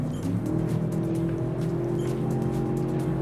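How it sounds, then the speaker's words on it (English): A 2025 Range Rover Sport SV's twin-turbocharged V8 roars steadily at sustained revs, deep and droning, heard from inside the moving vehicle with no talking. "I could listen to that V8 sing all day long."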